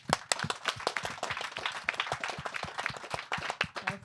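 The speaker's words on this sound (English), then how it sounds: "Please give her a round of applause." An audience applauds to welcome a guest speaker, Vanessa, at a design-for-values talk: dense, steady clapping from many hands fills the whole stretch at moderate level with no voices over it.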